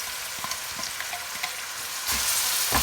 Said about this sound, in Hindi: अब हमने अनियन को फ्राई करना है ताकि इसमें से कच्चापन चला जाए।